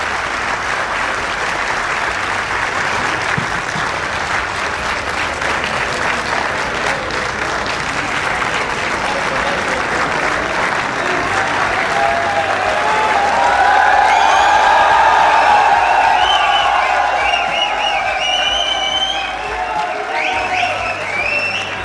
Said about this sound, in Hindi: प्लीज़ तालियों के साथ वेलकम करें